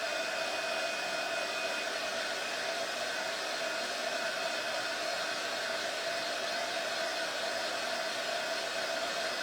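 A hair dryer blows over paint on patterned carrots, a constant close whooshing roar that runs unbroken and alone.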